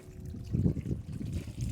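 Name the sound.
irrigation water trickling through field furrows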